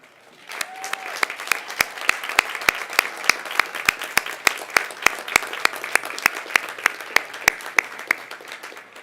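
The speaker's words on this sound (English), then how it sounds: "Please turn to them and join me in a round of applause." A large audience at a high school graduation ceremony claps steadily for graduates' families. The dense applause rises quickly and holds throughout, with a few sharp individual claps standing out near the front.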